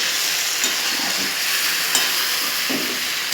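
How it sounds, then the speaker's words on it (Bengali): A spoon stirring spices into a sizzling pan of fish and potato curry, steady frying hiss with soft scraping strokes, close and continuous with no talking. "ভালো করে মশলাটা দিয়ে নাড়াচাড়া করে নিয়েছি"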